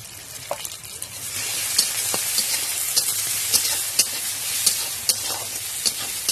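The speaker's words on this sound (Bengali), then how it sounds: "ভাজা ভাজা পেঁয়াজটা হলে তবেই কিন্তু মশলাটা দেবে দিয়ে সুন্দর করে মশলাটাকে কষিয়ে নিতে হবে" A spice paste with fried onions is sautéed in a pan for a poppy-seed paste dish. It gives a steady, loud sizzle with frequent sharp scrapes and clicks of stirring throughout.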